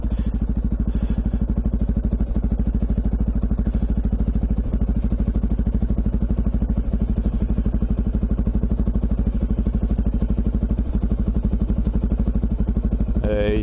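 A KTM 1090 motorcycle is ridden with its engine holding a steady, loud, close throbbing drone and constant mechanical clatter, without a break.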